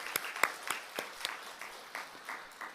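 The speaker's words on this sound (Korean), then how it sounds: "우리 하나님 앞에 다시 한번 영광의 박수로" A church congregation gives a brief, faint round of applause, a short spattering of separate claps that thins out over a few seconds.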